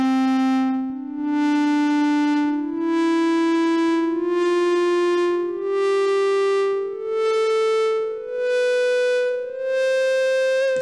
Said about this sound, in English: We can turn our envelope up and have the nice fade in.